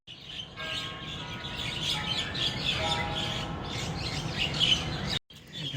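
Several birds chirp and tweet busily together at moderate distance in Singapore, a continuous chatter that cuts off abruptly near the end.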